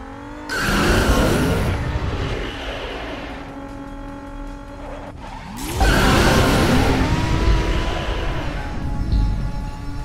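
Race cars in the Cars 2 video game burst forward with a roaring turbo boost, two loud surges of engine whine and tire squeal, the second one stronger and sustained to the end.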